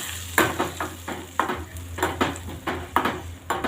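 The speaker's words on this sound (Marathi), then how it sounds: "आणि आता मिरची टमाटरची चटणी किंवा ठेचा छान हलवून घ्यायची आहे।" A spoon stirs a green chili and tomato chutney in a hot pan, with rhythmic scraping strokes roughly every half second over a soft sizzle, close and alone with no voices.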